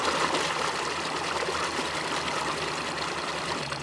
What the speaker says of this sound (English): look at that stream of water. That's what the water pump's pumping through the engine.